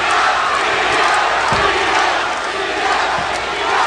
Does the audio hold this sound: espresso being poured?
no